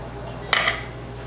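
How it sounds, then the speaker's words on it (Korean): Frozen tapioca pearls dropped into a metal steam pitcher make a single brief clattering rattle, close and sharp, against a steady low room hum. "냉동된 버블을 50g을 넣어 줄게요"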